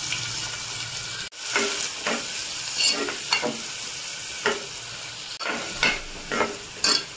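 Chopped onions with cumin and a pinch of asafoetida sizzle in a pan, punctuated by repeated scraping stirs of a spoon at irregular intervals, with no talking.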